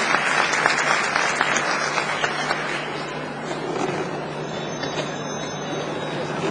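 Audience applause at a conference, a dense and steady patter of clapping from a crowd in a hall that runs throughout at moderate loudness.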